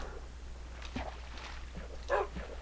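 A tamed wolf in the Minecraft video game gives short barks and a whimper, moderately loud over a steady low game background hum.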